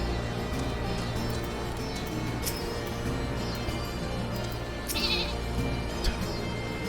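A sheep bleats a few times in Final Fantasy XIV: Stormblood over a steady low ambient hum and background game noise, with faint clicking and shuffling sounds.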